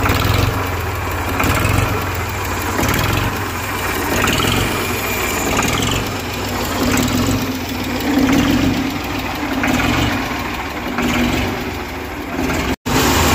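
A Ford 3600 tractor's diesel engine idles steadily and loudly, a continuous low rumble with a slight knocking pulse and no talk.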